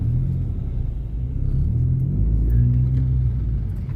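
Car traffic rumbles along a road in a steady low roar, with passing engines swelling and fading, heard from inside or beside the flow with no talking.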